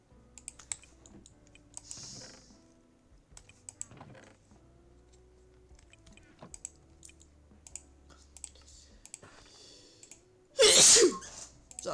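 One sharp, loud sneeze bursts out near the end, after a long stretch of quiet computer keyboard typing and mouse clicks during a Minecraft stream.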